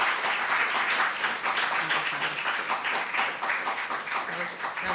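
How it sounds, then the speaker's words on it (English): Sustained audience applause closing a panel session on accountability, a dense even wash of many hands clapping at steady loudness throughout, with no pauses. "That was a long clap."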